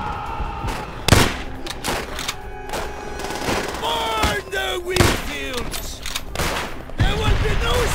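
In Call of Duty: World at War, loud gunfire crackles in close bursts and scattered single shots, with shouting voices mixed in throughout.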